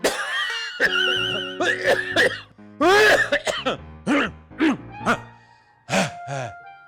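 A series of harsh, close coughs and throat clearings, some strained and wheezy, come in several bursts with short pauses between.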